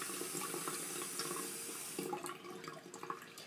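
Water runs steadily from a tap into a sink while makeup brushes are rinsed, a close, constant rush that breaks into uneven splashing near the end, with no voices.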